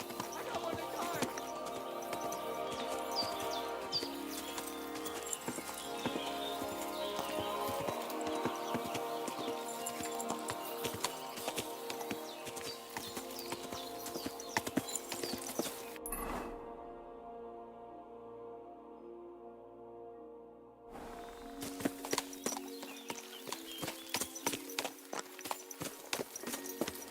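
Horse hooves clop steadily through a medieval game world, a rhythmic trotting beat over layered music that breaks off briefly before the hoofbeats and score resume.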